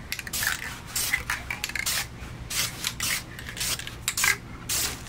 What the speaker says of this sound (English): So we're just gonna go ahead and spray for the third time.